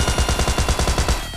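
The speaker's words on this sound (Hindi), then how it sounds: "अब देखो गाइस इस वाले बंदे को कितनी गोलियां मारता हूँ मैं" Rapid automatic gunfire in PUBG hammers out as one loud, close burst of evenly spaced shots aimed at an enemy player, with no voices over it.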